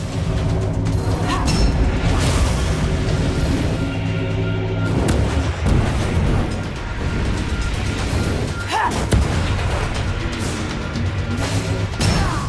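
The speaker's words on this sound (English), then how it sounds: "Slow motion explosion." A booming slow-motion explosion in the fantasy game Lichdom: Battlemage, a dense, loud wall of rumbling blasts and crashing debris that continues steadily with no pauses.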